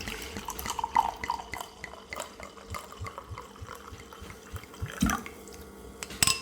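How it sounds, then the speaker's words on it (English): Red wine from a bottle is poured heavily into a glass: an uneven trickling, splashing liquid sound, fairly quiet and close, with soft clinks near the end and no talk. "That was a heavy pour, you can tell."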